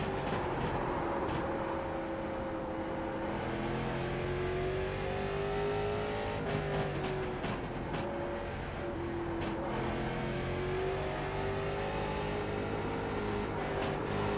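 Late model short-track race cars at Concord Speedway in the racing sim iRacing: a continuous close engine drone rising and falling in pitch as the car accelerates through laps, with other cars passing.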